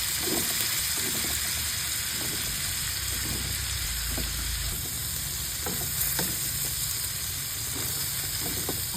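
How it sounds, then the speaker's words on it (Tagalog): Long beans (sitaw) sautéing in oil with garlic, onion and a little pepper, a steady close frying sizzle with scattered clinks and scrapes of stirring throughout. "dito na lang ako naggisa. Naglagay lang ako ng konti paminta at sinunod ko na din yung mga sitaw"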